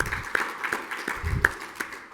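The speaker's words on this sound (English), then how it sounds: "You can clap, though, first if you want." Sparse, faint applause from a small audience after a leadership presentation, scattered claps in a loose, irregular rhythm, alone without talk.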